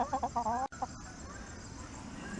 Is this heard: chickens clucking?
yes